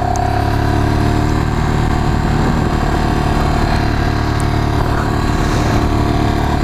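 Ducati Streetfighter track motorcycle on brand-new tires, its engine running steadily with a dense low rumble that holds loud and continuous throughout, no speech over it.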